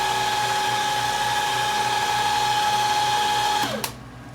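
A steady, high-pitched whine of a carbide drill bit grinding into hardened stainless steel, drilling a tiny hole, loud and close, cutting off abruptly near the end.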